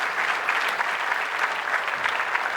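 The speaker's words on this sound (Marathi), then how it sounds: "त्यांना टाळ्या वाजवा त्यांच्याकरता" An audience at a cultural heritage event applauds, producing a continuous, even wash of many hands clapping at moderate volume, with no speech over it.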